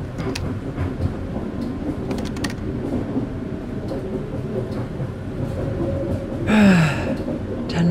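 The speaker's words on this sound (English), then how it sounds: "still on the train. Are we ever gonna get out of this tunnel?" Train rumbling through a Minecraft tunnel in Cubes 2020, a steady low roar of rolling wheels and rattle throughout, with a brief rising tonal squeal near the end.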